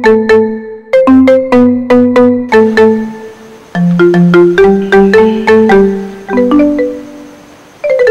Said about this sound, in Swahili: Simu yako inaita.